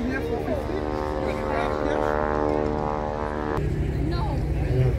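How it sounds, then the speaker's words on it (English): A propeller airplane flies past at an air show, its engine drone loud and steady throughout with a shifting pitch as it passes overhead and recedes. "And a very good airplane to fly."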